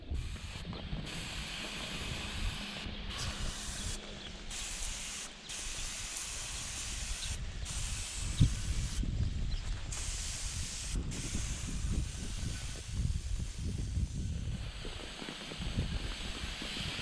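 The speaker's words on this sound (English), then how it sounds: "So we'll start spraying it down." Scalding hot degreaser solution sprays onto a transmission or engine in a steady, close hiss, broken by brief pauses, with faint mechanical clicks underneath.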